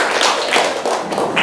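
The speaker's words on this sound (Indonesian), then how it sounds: "Tepuk tangan untuk kalian." Students in a classroom clap together, a brief burst of fairly loud, uneven hand claps with light taps and thuds throughout, no talking over it.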